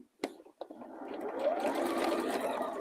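A sewing machine starts with two short bursts, then runs steadily and fairly loud for the rest of the stretch with no voices.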